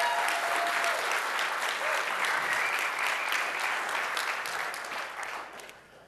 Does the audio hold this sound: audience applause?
yes